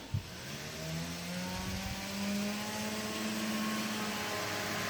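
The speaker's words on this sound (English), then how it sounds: "Power is on. Propeller is turning." Lionel Benz aero car model train with a 12-volt controller, its small electric motor and spinning propeller giving a quiet steady whir that rises in pitch, preceded by a brief click at the start.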